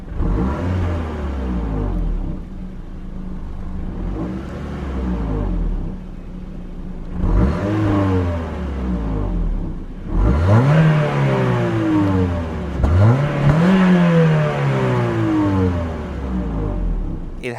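A Honda Civic 1.8 i-VTEC FN2 hatchback with stock exhaust and no tuning idles, then revs repeatedly, each blip rising and falling, the last few pulls higher and louder.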